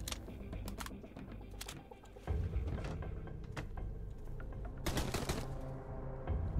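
Rapid bursts of SMG gunfire in the survival game Sunkenland, several sharp automatic volleys crackling over a steady low background rumble, loud and close.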